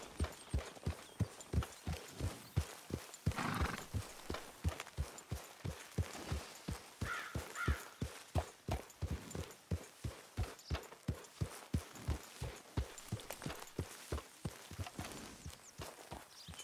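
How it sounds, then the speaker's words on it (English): Horse hooves in Red Dead Redemption 2 clip-clop at a steady walking rhythm, loud and close throughout, with a brief snorting whinny-like burst early on and no talking. "Your horse is looking fit as a fiddle, Arthur"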